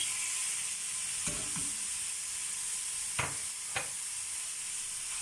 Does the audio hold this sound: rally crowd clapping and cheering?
no